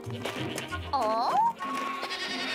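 A single wavering bleat rises briefly and close, amid background chatter and voices.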